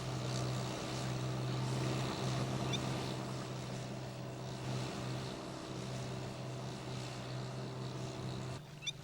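A tractor drones steadily as it pushes into a rice paddy, a low, even engine hum that holds at moderate distance throughout, easing slightly near the end.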